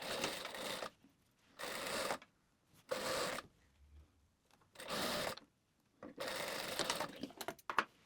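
A sewing machine stitching a trouser fly to the center front of a pair of shorts, running in several loud, steady whirring bursts of about a second each, separated by quiet pauses.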